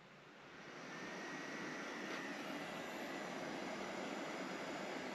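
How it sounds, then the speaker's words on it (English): Two ventilation blowers from Lincoln Continental car seats, powered at about 5 volts, spin up from quiet into a steady, smooth airy whoosh that holds constant and close. "And I can feel air coming out of both of the blowers."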